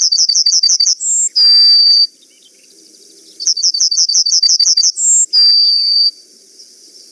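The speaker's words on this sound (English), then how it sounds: "the yellowhammer is famous for its song" Yellowhammer song, two phrases each made of a rapid series of high bright chirps ending in a longer drawn-out note, loud and close with quiet gaps between.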